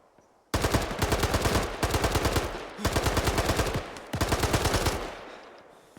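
Fully automatic gunfire in Arma 3 comes in four long, loud bursts of rapid shots with brief pauses between them, the last burst fading into a short tail.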